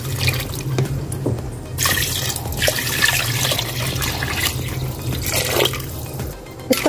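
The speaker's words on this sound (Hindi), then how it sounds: "अब हम इसमें पानी डालेंगे।" Water is poured into a cooking pot of bone marrow bones for a curry, a steady splashing flow that carries on for several seconds with brief pauses.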